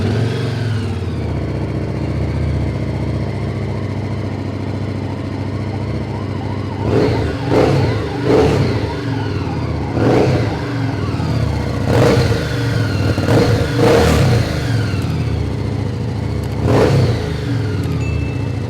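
Engine of a 2019 superbike in a showroom, idling with a steady low rumble before being revved in repeated sharp bursts that rise and fall loudly, no talking over it.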